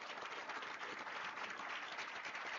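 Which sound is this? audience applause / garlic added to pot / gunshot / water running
audience applause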